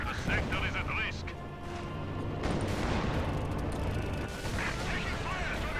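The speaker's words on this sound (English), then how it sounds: "Pyrotechnic display as that plane smashes into the countryside." A plane smashes into the countryside in a war video game, a heavy rumbling crash and explosion with booming blasts and crackling gunfire layered over one another, with a voice talking throughout.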